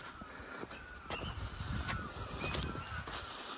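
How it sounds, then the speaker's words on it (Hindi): Jungle fowl calling and flapping off through a forest in Uttarakhand near Jim Corbett during a forest fire, a few sharp honking cries and bursts of wingbeats at mid distance over crackling background noise. "ये देखो जंगली के मुर्गे उड़ के गए।"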